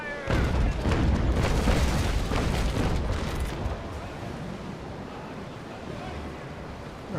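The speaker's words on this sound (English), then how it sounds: "I think one more broadside will be finishing the job" A ship's cannon broadside fires in the naval battle game Naval Action, a loud rumbling boom that rolls out over wind and ocean surf, then fades into the steady sea noise.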